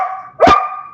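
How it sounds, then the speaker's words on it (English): A dog gives one sharp, loud bark close by, alone and brief against quiet background hum. "Dog's barking."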